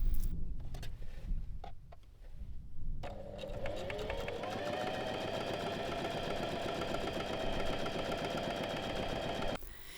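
A sewing machine stitches an elastic waistband, its motor settling into a steady, even whirring drone after a few seconds of handling noise, running close and continuous until it stops abruptly.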